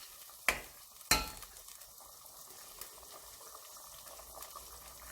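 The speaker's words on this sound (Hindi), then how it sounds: "इसको मिला अब तेल ऊपर आ चुका है। थोड़ा सा से भूनना है, ज़्यादा नहीं भूनना।" Masala fries in oil for a Balochi-style fish curry as it is stirred, with two sharp spoon clinks early on, then a quiet, steady sizzle.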